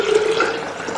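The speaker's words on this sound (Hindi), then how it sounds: "एक कप पानी शामिल कर दें जितना आप पी सकते हैं" A cup of water is poured into a weight loss juice, a loud, close, gurgling splash that flows steadily for a second with no one talking.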